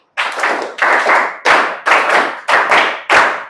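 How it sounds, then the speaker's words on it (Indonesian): A school class claps a rhythmic pattern together, six sharp crowded bursts of many hands in a steady beat, loud and close with no talking. "Tepuk 5 2 kali."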